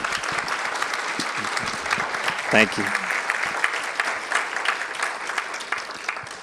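A room full of people applauds a speaker at a Women's History Month celebration, with steady clapping throughout and a brief spoken thanks partway through.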